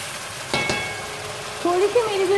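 Black masoor khichdi masala roasting in oil as it is stirred, a steady soft sizzle with a couple of sharp spoon scrapes and a faint tonal hum partway through.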